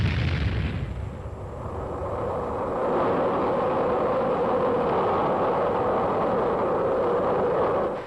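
Cold War-era US anti-aircraft guns and artillery fire, rendered as a loud, sustained booming roar that opens with a burst and then rumbles on continuously without clear separate shots, and no voices.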